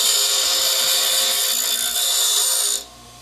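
Skil 2.1-amp 6-inch bench grinder sharpening a tool edge: a loud, steady high grinding whine with gritty scraping that holds for nearly three seconds, then drops off abruptly as contact ends.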